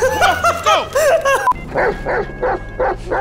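Dog barking in the video game GTA 5: a quick run of sharp, loud barks, dense at first, then a steadier series of about five evenly spaced barks, close up with no speech.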